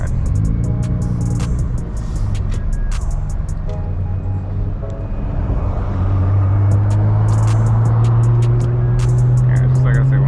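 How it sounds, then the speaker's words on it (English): A Nissan GT-R R35 with a 4.1L engine rolls through traffic, its steady low engine drone rising in pitch toward the end, with faint clicks and tire noise throughout. "we're just chilling, man"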